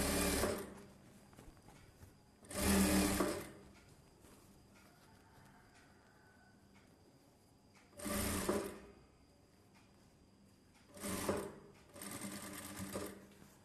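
A sewing machine stitches a silk blouse back neck design. It runs in several short whirring bursts separated by quiet pauses, with no talking.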